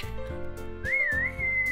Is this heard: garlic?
no